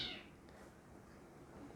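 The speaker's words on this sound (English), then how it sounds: "My cats are fighting." Pet cats fighting indoors, a brief faint yowl or hiss at the start and then only a quiet room with no further cat sounds.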